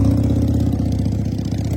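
A motorcycle engine idles on a street, a loud, steady low throb with a rapid, even pulse and no talk over it.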